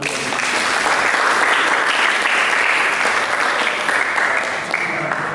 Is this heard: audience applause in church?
yes